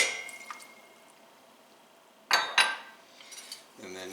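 Water being poured into a saucepan of lemon pie filling mix and sugar: quiet clinks, then a short burst of splashing and pouring with a few drips, faint and close.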